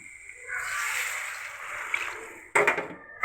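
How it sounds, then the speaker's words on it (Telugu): Water poured from small glasses into a pan of dry prawn and drumstick curry, a steady broad splashing pour lasting a couple of seconds, followed by a brief louder slosh and clatter near the end. "వాటర్ పోసేద్దాం."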